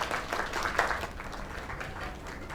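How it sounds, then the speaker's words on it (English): In the life-simulation video game Lake, a crowd gives a round of dense, continuous applause that fades slightly toward the end, at moderate loudness with no talk over it. "Another round of applause."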